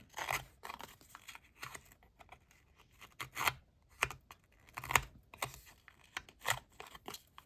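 Paper is torn in short, rough rips to distress its edges for a craft folio, the quiet tearing and crinkling repeated in an irregular rhythm close up.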